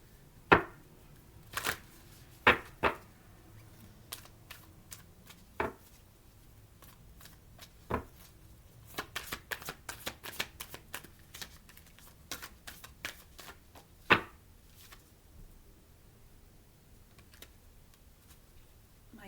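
A Moonology oracle card deck being shuffled, heard as quiet, scattered riffles and soft card taps with uneven gaps, close by and with no talking.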